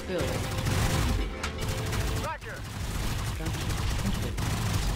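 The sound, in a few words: machine gun firing in video game MarZ Tactical Base Defense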